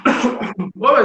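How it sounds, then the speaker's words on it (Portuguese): A woman leading an exercise class coughs and clears her throat in a rough, close, loud burst lasting about a second. "Tempos complicados para ficar tossindo, né?"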